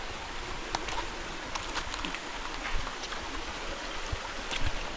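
Clear river water flowing steadily past a farm lot, a continuous broad wash of moderate loudness with faint occasional splashes and no talk.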